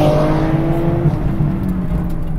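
A turbocharged Nissan 370Z accelerates hard toward redline, its loud, continuous engine tone rising steadily from close inside the car with no talking.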